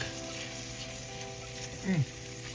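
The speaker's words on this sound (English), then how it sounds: "Now we're going to get these tomato paste all incorporated into this onion and garlic." Tomato paste with onion and garlic sizzles softly in a pot as it is stirred and mashed, a low steady hiss with a short scraping bump near the end.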